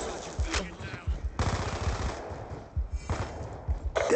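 Death Machine minigun in Black Ops II fires in bursts of rapid, rattling shots separated by short gaps, loud and close, with faint game chatter underneath.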